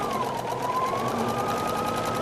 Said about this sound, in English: you're going to stitch just a hair inside, pulling this one along